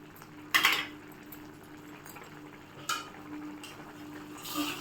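Semiya upma (vermicelli) being stirred in a pan for breakfast, with a sharp metal spoon scrape against the pan near the start and a few softer clinks later over a low steady kitchen hum, no talk.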